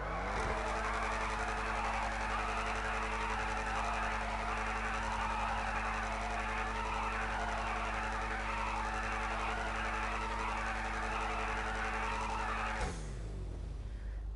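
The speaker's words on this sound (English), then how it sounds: "I'm going to give you a little performance of how the engine sounds." The V8 engine of an Ocelot XA-21 supercar in a video game holds a loud, steady, droning rev with a strong harmonic hum and hiss, then cuts off abruptly near the end.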